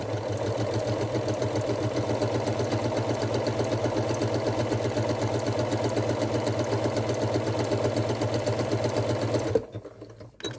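A sewing machine runs at close range, stitching a very narrow satin stitch for appliqué in a fast, steady, even whir that holds for about nine and a half seconds before stopping abruptly.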